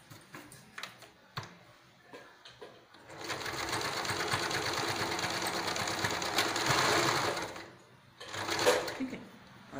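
A sewing machine stitches a fabric carry bag, running steadily and close for about five seconds after a few scattered handling clicks, then stopping with a short final burst of stitching.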